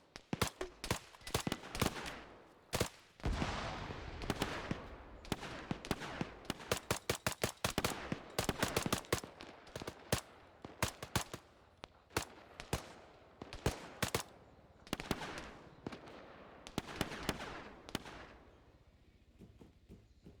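Dense bursts of automatic and single-shot gunfire from an Arma 3 military simulation firefight, loud and near, with repeated volleys and short pauses across the whole span.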